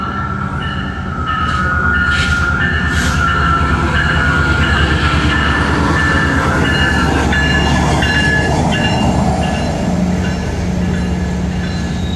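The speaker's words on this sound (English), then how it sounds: "Yep, there's a train coming right over there." A train rumbles past close by, a loud continuous roar with metallic wheel squeal and clatter, no voices heard.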